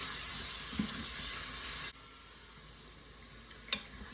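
Onions browning in an Instant Pot for mutton yakhni pulao give a steady, faint sizzle and hiss, with a couple of light stirring clicks, the sound dropping quieter partway through.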